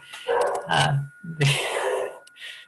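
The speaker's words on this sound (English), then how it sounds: "Sorry about the dogs, guys." Dogs bark and yelp at home, loud close outbursts in two main bursts, the calls mixing with whiny, moaning tones.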